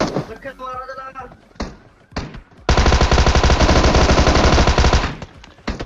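Sustained Tommy gun burst in PUBG Mobile, a loud, dense rapid-fire rattle lasting a few seconds after scattered shorter shots, with game effects around it and no talk.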